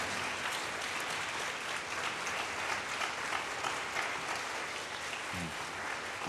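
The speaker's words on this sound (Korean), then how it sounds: "우리 다시 한번 감사의 박수로 화답하면 좋겠습니다" A church congregation at a Sunday youth worship service applauds a departing praise team, a dense, steady wash of many hands clapping that fills the whole stretch without letup.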